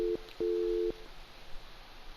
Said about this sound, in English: Yes, I can tell the line is ringing.